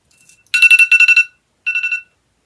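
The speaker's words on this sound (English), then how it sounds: "My alarm going off." A phone alarm goes off in a quiet room, a bright electronic tone pulsing in two bursts, a rapid run of beeps followed by a shorter repeat, close and fairly loud.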